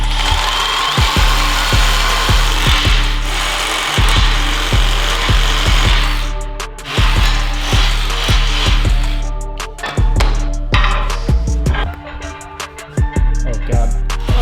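A bumper bar for a Toyota Sequoia is cut with a power tool, giving loud rhythmic rasping strokes that repeat roughly every half second, with short pauses between passes.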